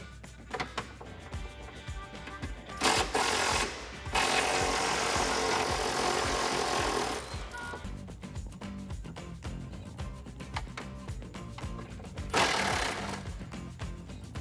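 Nuts being removed beneath a Jeep Wrangler TJ fuel tank, likely with a power tool, heard as rattling, buzzing bursts with a sustained run in the middle, close and mechanical.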